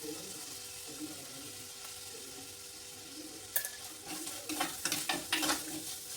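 Chopped tomatoes stirred in a frying curry pan: a soft sizzle through the first half, then a burst of spoon scrapes and wet stirring clatter near the mic toward the end.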